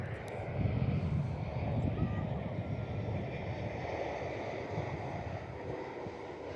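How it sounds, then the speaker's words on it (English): A Qantas Airbus A321neo airliner arrives at Perth, a soft, continuous jet rumble with a slight swell early on, faint and distant, alongside a little talk. "A321 Neo in now. For Qantas as well, lovely."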